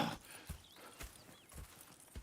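Horses' hooves clip-clopping at a slow walk in the Red Dead Redemption video game, soft rhythmic thuds about every half second, faint and distant with a quiet whinny-like squeak in the background.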